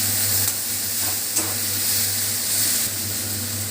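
Kabuli chickpea ghugni with turmeric stirred in a pan, a steady close sizzling hiss with a low hum beneath and a few faint scrapes of the spoon.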